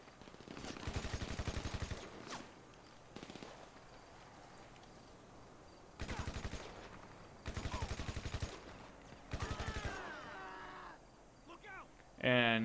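Bursts of automatic gunfire in GTA Online shooting open a supply crate, several loud rapid volleys separated by pauses, with other game sounds and a louder effect at the end.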